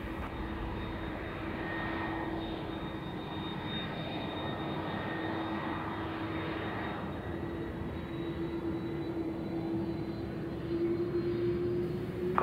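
Air Mauritius passenger airliner taking off from runway 03, a steady, sustained engine roar with a constant droning tone that holds throughout and swells slightly near the end, with no talk over it.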